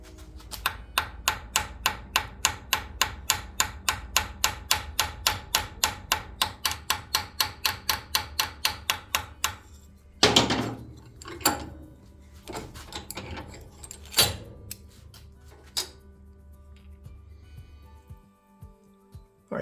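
Brass rivet pins are tapped into a Swiss Army Knife assembly fitted with a Spyderco Delica 4 blade: a long run of evenly spaced, sharp metallic taps, then a pause followed by a few scattered, heavier strikes, close and alone.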